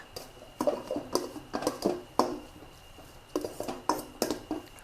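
Utensils tossing and mixing Thai glass noodle larb salad, irregular clusters of close clinks and soft scrapes in short bursts with brief pauses, no talking.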